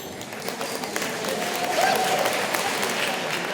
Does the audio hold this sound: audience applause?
yes